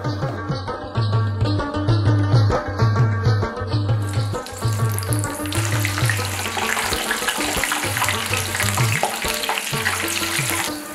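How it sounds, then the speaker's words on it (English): Beef sausage sizzles and crackles loudly in hot oil, a steady frying hiss with bubbling, and no talking. "We fry beef sausage for about 2 minutes in the oil."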